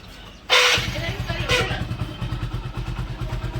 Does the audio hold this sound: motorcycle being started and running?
yes